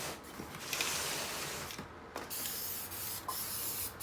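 Spray paint hisses onto a Mercedes Sprinter steering wheel in steady, close bursts, with brief pauses between passes of the aerosol can.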